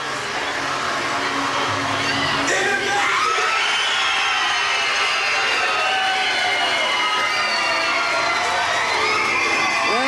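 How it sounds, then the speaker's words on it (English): A large audience at a televised talent show's main-stage results announcement cheers wildly, with loud, sustained roaring, shouts and whoops swelling and continuing without pause. "Look at this crowd go crazy"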